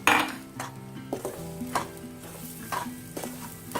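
Grated coconut and powdered sugar being stirred in a hot pan, a spoon scraping in steady repeated strokes over a soft sizzle, close and moderately loud with no talking.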